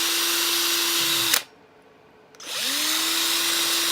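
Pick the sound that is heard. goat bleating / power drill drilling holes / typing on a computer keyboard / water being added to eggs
power drill drilling holes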